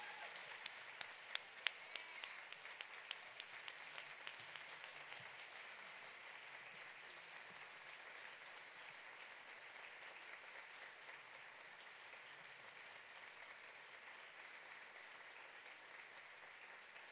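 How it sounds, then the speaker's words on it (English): Steady audience applause fills a nurse educators' awards ceremony, dense and sustained throughout, with a few sharper claps standing out early before settling into an even, moderately distant roar of clapping. "Let's give them another resounding round of applause."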